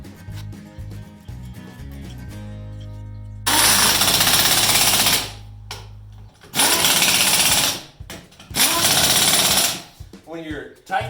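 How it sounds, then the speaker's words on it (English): A pneumatic impact gun runs lug nuts onto a car wheel in loud, close rattling bursts, three long bursts of a couple of seconds each separated by pauses, with speech and a compressor hum around them. "you can use your impact gun and air compressor just to wind them down"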